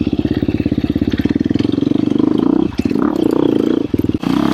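A KTM 350 XCF Factory Edition dirt bike engine revving on singletrack, close and loud, a fast pulsing four-stroke bark that rises and holds, with brief throttle dips and a sharp chop near the end.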